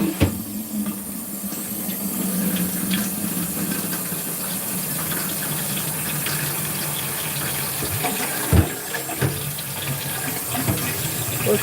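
Tap water runs into a crab pot in a home kitchen as a steady, close hissing stream, with a couple of brief knocks near the end.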